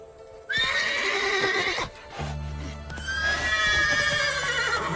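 A horse in The Witcher 3 lets out a loud, drawn-out whinny and then a second neigh, with faint hoof clip-clops in a game soundscape and no speech.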